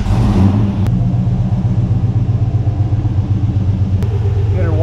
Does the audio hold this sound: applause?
no